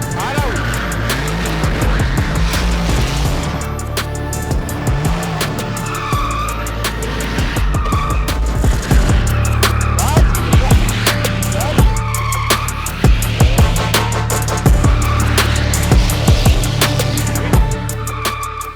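A Mercedes W205 C63 AMG drifting at full throttle, its engine roaring while the tires squeal and skid in long, loud passes, with voices talking over it.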